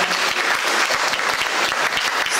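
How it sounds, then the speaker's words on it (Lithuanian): An audience applauds a folk singer at an international folk song festival, dense continuous clapping from a sizable crowd, loud and even throughout. "Aplodismentais pasitinkime."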